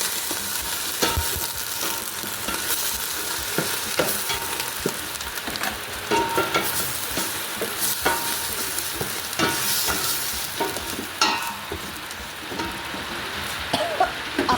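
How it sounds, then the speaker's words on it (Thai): Thai curry paste being stir-fried in a pan for a beef-hoof curry with mushrooms, a loud continuous sizzle broken by repeated scraping stirs throughout. "แล้วก็คั่วนะคะคั่วแกงก่อน"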